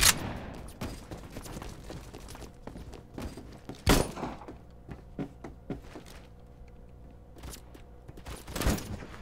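Gunfire in the Roblox shooter Phantom Forces, with an SKS among the weapons: scattered sharp shots and thuds over game noise, two loud close bursts standing out, no talking.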